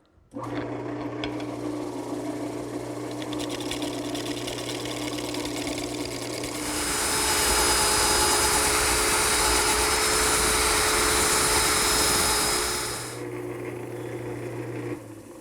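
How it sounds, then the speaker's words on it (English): A wood lathe spins a wooden bowl with a steady motor hum. A round nose scraper then bites in for several seconds, adding a loud, continuous rasping scrape before the lathe settles back to its hum. "now I've turned to this scraper. It's a round nose scraper."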